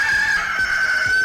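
A rooster crows in one loud, sustained call with a steady ringing tone, close and clear, with no other sound competing.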